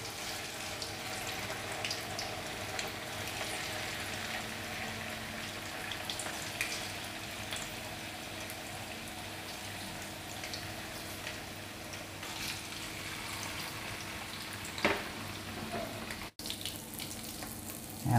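Cut tofu pieces fry in oil in a pan, a steady low crackling sizzle that runs throughout at moderate distance, with a brief clatter near the end and no talking.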